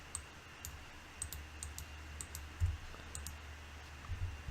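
Several quiet computer mouse clicks during 3D modeling work in Blender, scattered irregularly over a faint background hum, with no one talking.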